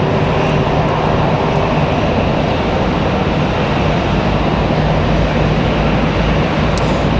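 American Airlines jet at the airport gives a loud, steady engine roar up close that fills the whole stretch without letup, with no voices.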